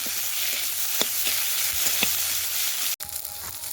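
Garlic, slit green chili and ginger-cumin-chili paste sizzling in hot oil, a steady close crackling hiss with light stirring clicks and a brief dropout near the end.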